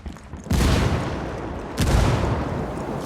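Two heavy frag grenade blasts in the shooter game Ghost Recon Wildlands, each a sudden loud boom rolling into a long rumbling tail, the second about a second and a half after the first.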